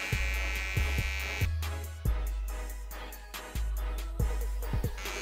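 A DINGLING electric hair clipper cutting hair to fade it, giving a steady close motor buzz broken by repeated short strokes and brief pauses as it moves through the hair, with no talking.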